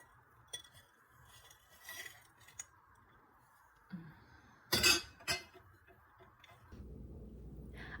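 A knife cuts into a no-bake lemon Oreo pie, giving scattered light clinks and taps against the dish with a sharper, louder cluster midway, then a low steady hum to the end.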